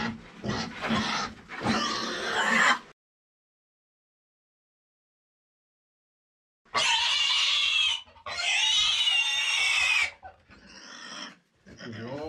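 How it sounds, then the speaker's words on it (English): A pig at a medieval château gives loud, close grunts and squeals in two bursts separated by a few seconds of silence. "Gentil cochon."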